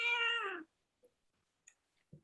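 A kitten gives a single clear, fairly loud meow indoors, followed by a few faint clicks and small noises.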